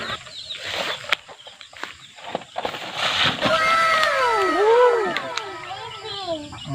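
Chickens on a farm cluck and call in the foreground alongside birds chirping, with children's voices and other farmyard activity mixed in throughout.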